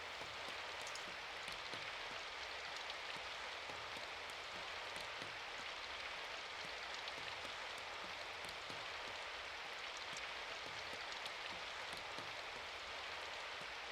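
Steady rain from the video game Symphonic Rain falls evenly and continuously, a dense soft hiss of drops with scattered faint pattering, with no voices throughout.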